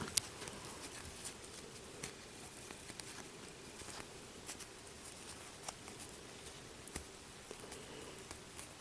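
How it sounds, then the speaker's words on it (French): Craft material being crumpled by hand while making a clown puppet for a children's activity, giving steady close crinkling and rustling with scattered sharp crackles throughout, with no talking. "Donc, il faut froisser un petit peu tout ça."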